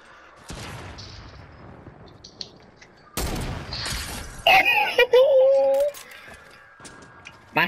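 Gunfire in the video game Fortnite, sharp separate bursts of shots and impacts between quieter stretches, with a player talking and other in-game effects mixed in.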